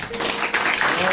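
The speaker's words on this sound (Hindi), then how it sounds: "जोरदार एक बार प्रभु की महिमा के लिए ताली बजाएं" Applause from a church congregation during a worship service, a dense wash of clapping lasting about a second and swelling slightly toward the end, with a voice faintly audible underneath.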